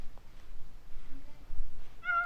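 A single cat meow in Minecraft rises clearly near the end of the short stretch, following quiet low rumbling and a few faint soft noises, with no speech.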